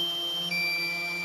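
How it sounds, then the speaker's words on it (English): Continuous high-pitched electronic low-battery warning tones from a DJI Phantom 3S drone, one steady pitch that jumps to a pair of higher tones partway through, fairly close and loud. "low battery warning. Sorry about beeping."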